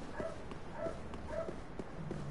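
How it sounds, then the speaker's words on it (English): A dog gives a string of four or five faint, evenly spaced barks over low background noise, with no talk. "Shut up, doggy."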